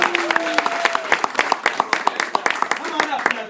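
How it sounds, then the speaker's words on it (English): Clapping from an audience at a magic show, sharp rhythmic claps at a fairly quick pace, with voices talking over the start. "Can we get a big round of applause for Devin?"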